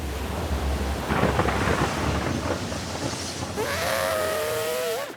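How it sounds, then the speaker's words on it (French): Steady heavy rain roaring throughout, with low rumbling underneath and a thin rising-falling tone near the end. "La pluie est sans fin."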